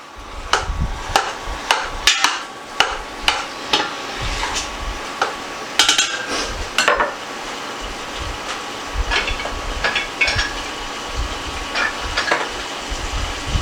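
Three ground meats browning in a pan for spaghetti sauce, with irregular sharp clacks and scrapes as a masher breaks them up over a low sizzle, close and without talking.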